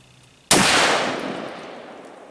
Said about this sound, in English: We're going to shoot it through the chronograph,